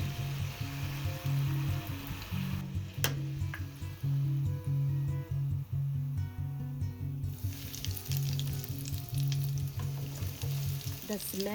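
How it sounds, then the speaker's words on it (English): Egg, chicken and potato balls deep frying in hot oil, three or four at a time, a steady loud sizzle and crackle with bubbling pops, close up and continuous throughout with a brief drop midway. "Now we fry."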